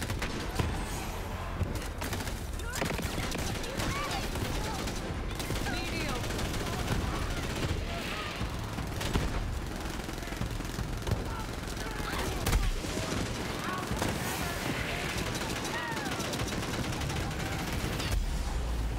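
Rapid, sustained gunfire from a heavy-recoil weapon in the shooter video game Borderlands 3, dense automatic bursts running steadily throughout with a player talking over the din.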